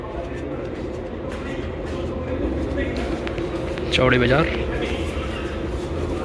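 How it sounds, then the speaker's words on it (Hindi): Delhi metro train running underground, a steady rumble with a rising electric whine midway, heard from inside the carriage under nearby talk. "चलिए मेट्रो में जा रहे हैं"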